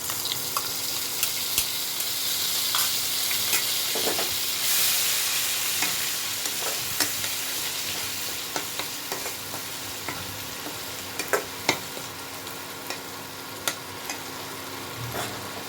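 Onion paste frying in a pan with steady bright sizzling throughout, broken by occasional scraping taps of a spoon stirring, close and moderately quiet with no talking.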